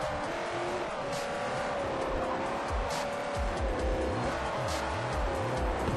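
A Corvette race car in the Forza 4 video game drives with a steady engine drone that rises and falls through gear changes, with some tire noise, moderately loud and continuous.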